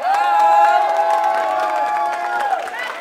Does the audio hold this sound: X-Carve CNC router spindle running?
no